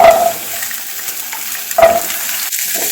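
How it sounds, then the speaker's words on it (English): Onions frying in gingery oil in a pan, a steady close sizzle with a couple of brief stirring scrapes, and no talking. "I'm going to add some more gingery oil and I'm going to fry half of the onions which I've kept here"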